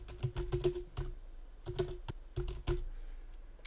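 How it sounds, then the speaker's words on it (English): Typing on a computer keyboard comes through as quick bursts of close, clicky keystrokes in short runs separated by brief pauses, with no talking. "But basically I can type something into there."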